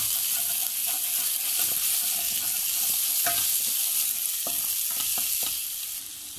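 Onions and asafoetida frying in a pan for a turnip bharta: a steady, dense sizzle runs throughout, with occasional spoon scrapes and taps against the pan, and no voices.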